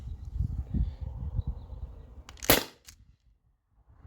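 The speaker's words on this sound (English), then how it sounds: "this is the last shot with the heavy balls" A single sharp, close crack from a modified T4E HDP50 Gen 1 HPA gun running at 900 PSI and firing a heavy ball bearing stands out against a low background rumble, followed by near silence.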